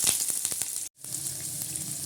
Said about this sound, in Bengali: তেলের মধ্যে পেঁয়াজ আর রসুন কুচিটা দিয়ে দেবো